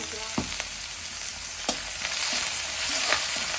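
Onions frying in a pan, a close, continuous sizzle broken by a few sharp clinks and scrapes of stirring, with no talking.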